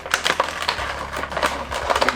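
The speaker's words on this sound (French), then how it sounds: "je vais déballer pour essayer de ne pas tout casser avec ces ciseaux-ci." Sharp crinkling snips and crackles of scissors cutting through plastic packaging, a quick irregular series up close.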